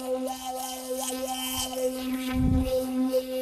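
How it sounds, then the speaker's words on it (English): An electric toothbrush buzzes steadily as a drone with a strong tonal hum, close and continuous, a slight swell near the end and no speech over it. "It's the sound of my electric toothbrush."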